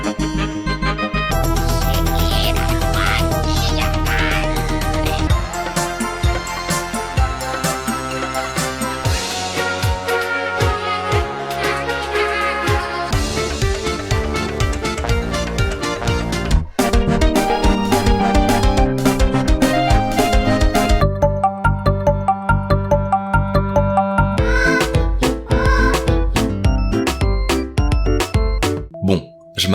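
Dense, full-band music from a Russian group formed in the 1990s plays continuously and loud with layered synths and a steady low end, the texture thinning and shifting partway through; no one talks.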